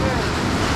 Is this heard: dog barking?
no